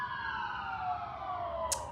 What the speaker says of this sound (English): There's lots of sirens in the background.